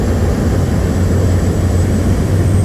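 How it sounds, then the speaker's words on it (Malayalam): Loud, steady roar of an airplane on approach to a runway for landing, heard from inside the cabin, with a constant deep rumble throughout and no voices. "ലാൻഡിംഗ് ഗിയർ ഇപ്പോൾ റൺവേയിൽ എത്തും ഗൈസ്."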